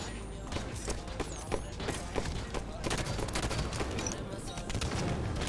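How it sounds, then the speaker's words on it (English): Rapid gunfire rattles through a multiplayer match of the video game Halo 5 with competitive settings, with dense bursts of shots and thuds running continuously, while a voice talks faintly in the background. "Wait, where am I getting shot from?"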